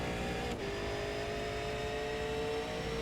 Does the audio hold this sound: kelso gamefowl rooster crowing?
no